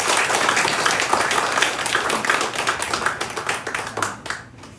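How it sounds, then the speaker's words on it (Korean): A congregation claps during a Sunday morning church service, a dense, lively round of applause that runs steadily and then thins out and fades near the end. "우리 한번 격려하는 의미에서 박수 한번"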